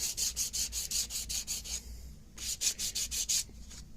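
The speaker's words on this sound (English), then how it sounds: "get down to the grade of the sandpaper you're using" Sandpaper is worked over an old wooden gunstock at a gunsmith's bench in quick rhythmic back-and-forth strokes, close and steady, with a short pause before the strokes resume.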